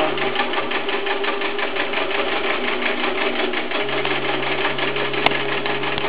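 A PC Quilter quilting machine stitches practice fabric in a fast, steady mechanical run that holds for several seconds, loud and close, with one sharp click near the end.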